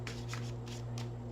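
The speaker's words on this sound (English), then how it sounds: "I'm going to shuffle." A tarot card deck being shuffled in a few soft, papery riffling bursts, close but quiet, over a steady low electrical hum.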